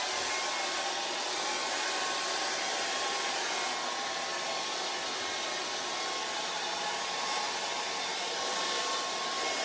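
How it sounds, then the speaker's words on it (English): A hair dryer blows steadily, a loud continuous airy whoosh with a faint whine, unbroken for the whole stretch and with no voices. "we're going to dry it off with a hairdryer"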